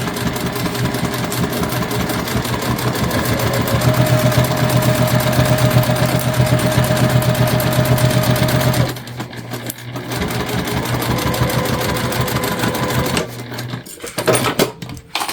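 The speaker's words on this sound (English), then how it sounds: "We're just following the seam allowance given in the pattern, and we are going to stitch straight across." A sewing machine stitches a straight seam across a fabric tote bag, running as a steady continuous mechanical whir that pauses briefly near the end.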